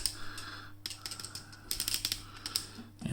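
Close, crisp plastic clicks come from the ratchet joint of a LEGO 31124 Super Robot set as it is moved through its positions, in short uneven bursts with brief pauses between and no talking.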